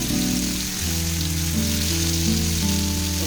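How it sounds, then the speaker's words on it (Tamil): Masala-coated fish laid on a hot tawa gives a continuous, even sizzle that holds steady and close, with no voices. "நம்ம மசாலா போட்டு வச்சு இந்த ஃபிஷ்ஷை போட்டுடலாம்."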